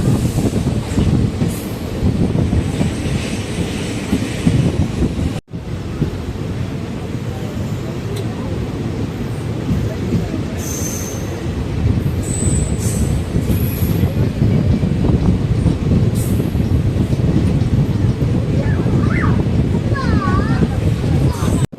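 A Madurai–Coimbatore passenger express runs at speed, heard from on board as a loud, steady rumble of wheels and carriages with rattling clatter and brief high squeals from the rails, continuous for the whole stretch.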